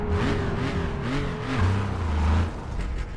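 Steady engine drone heard from inside a historic racing car at the Longford road racing circuit, a muffled low hum with slight rises in pitch, fairly loud and continuous throughout.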